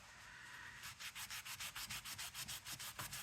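Lunar paste is rubbed out across a surface by hand, making a quiet series of about a dozen quick, even back-and-forth rubbing strokes in a steady rhythm.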